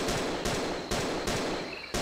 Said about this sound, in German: Ja, ich höre die Schüsse.